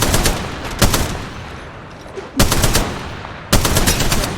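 Enemy gunfire in the mobile battle-royale shooter Apex Legends Mobile: loud, sharp bursts of rapid shots strike in three separate clusters, each with a trailing echo, and no voices are heard.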